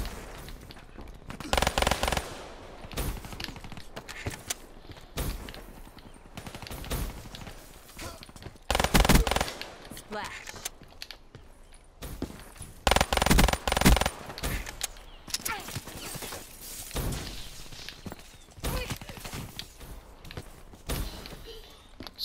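Bursts of rapid automatic fire from an RK assault rifle in a shooter video game, several loud rattling volleys separated by short gaps, with faint talk in places.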